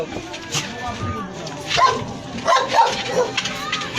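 A dog yips and barks several times outdoors during neighborhood disinfection spraying in Malabon, mixed in with nearby voices talking and general street noise.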